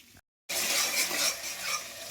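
Ginger is dropped into hot oil as a spice tempering for a vegetarian bottle gourd curry. After a brief silence an abrupt, steady sizzle starts up close, ending with a small clink of a utensil.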